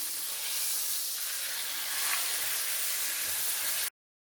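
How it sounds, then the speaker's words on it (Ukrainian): Steady, loud sizzling of chicken pieces pan-frying for chicken tabaka, a continuous crackling hiss that stops abruptly near the end. "Обсмажую курку з кожної сторони приблизно по 3-5 хвилин."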